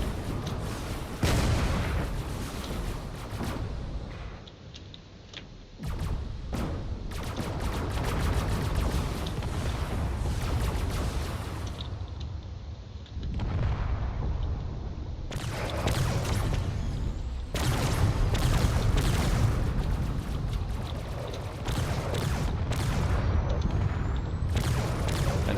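Heavy cannon fire pounds a frigate in a Drone Wars ship battle game, repeated booming impacts and crackling bursts piling up in loud clusters, with short quieter gaps between barrages.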